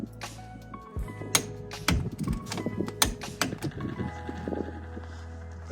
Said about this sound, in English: And this is the 3/8 torque wrench. Set to 55 foot-pounds.